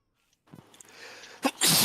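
A single sharp sneeze bursts out after a brief quiet intake of breath, close and loud at the end.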